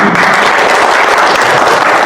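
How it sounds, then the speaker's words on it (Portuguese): An audience at a political training seminar applauds, loud close-up clapping from a roomful of people forming a continuous, dense crackle that holds steady throughout. "Palmas para vocês, viu?"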